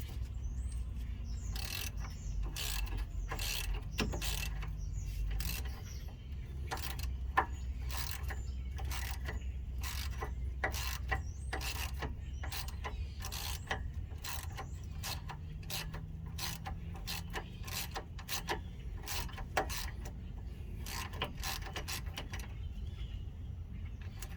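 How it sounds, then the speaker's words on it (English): Dense rapid ratcheting clicks in bursts from a wrench loosening small bolts on an upper balljoint of a 1988–98 GMC K1500, close and steady, with a faint low hum beneath and no talking. "put the wrench on the bottom, crack it loose"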